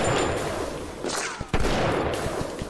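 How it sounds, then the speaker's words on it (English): In the video game Bioshock, an automated turret fires on the player, a loud rapid burst of gunfire that runs for most of the clip, with a brief sharp crack near the middle. "Oh, come on, with the turret shooting me."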